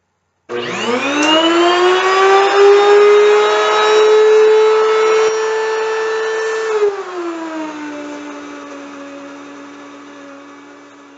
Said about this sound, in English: we're going to turn on our grinder and we'll grind our flour